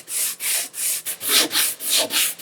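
A guitar fretboard is sanded to a 12-inch radius with long, rhythmic back-and-forth strokes, about nine raspy, hissing passes of wood rubbing in quick succession, close and clear with no talk.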